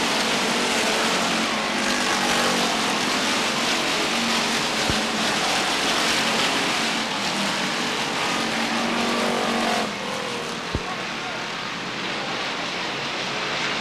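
Stock race cars circle Beech Ridge Motor Speedway in 1992, a dense, steady engine roar from a pack under green, with two sharp clicks and a slight drop in intensity late on.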